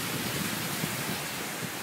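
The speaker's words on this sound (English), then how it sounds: "there wasn't any rain at all. Before you know it, just came up just like that, without any warning." Heavy rain from tropical storm Irene in Isla Verde, Puerto Rico, a loud, steady broadband hiss of downpour with no break and no voices.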